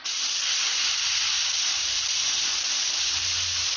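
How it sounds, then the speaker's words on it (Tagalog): A cheap spray gun fitted with an ordinary tank sprays with a loud, steady hiss that starts abruptly and holds constant throughout, with no other sounds. "Tagilid natin yung spray gun."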